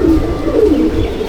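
Andhra pigeons cooing in a loft, a steady throaty warble of several birds close by, continuous and fairly loud through the brief moment.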